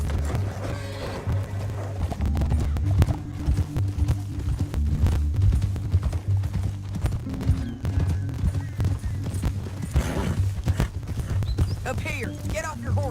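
Horse hooves pound in Red Dead Redemption 2, a rapid run of hoof strikes layered over a loud, busy game mix with low rumble and brief shouts from characters.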